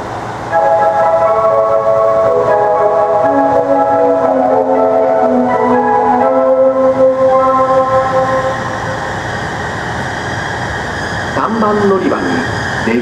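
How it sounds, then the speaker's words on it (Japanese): A rapid Aqualiner train pulls into a platform at Izumo-shi station, its motor whine and rolling wheels loud and close, with a short horn blast near the end as it slows. "まもなく3番乗り場に快速列車増田行きが到着いたします。"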